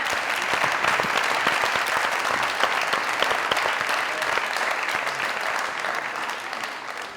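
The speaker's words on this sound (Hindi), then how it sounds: "जोरदार ताली।" Studio audience at a Punjabi-Urdu comedy talk show breaking into loud applause, a dense continuous roar of clapping that holds throughout and tapers only slightly near the end.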